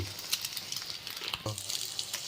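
Egg frying in a pan while Bengali-style fried rice is made, giving a steady soft sizzle with a few small pops and a brief scrape of stirring, close and fairly quiet, with no speech.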